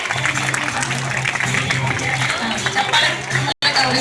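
A school crowd at an Independence Day program applauds the quiz winners, steady clapping filling the whole stretch with a low hum underneath and a brief cut near the end.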